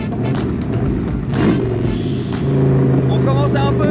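An AC Cobra sports car drives along a road on a hot day, its engine a loud, steady low drone throughout with a rise in pitch partway through, as if accelerating, while voices talk over it from inside the open car.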